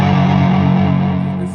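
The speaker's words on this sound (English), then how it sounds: "The Mercury output transformer really kicks up the distortion." Electric guitar played through a tube amp with a Mercury output transformer and a working reverb tank, a loud sustained distorted chord ringing out and slowly decaying.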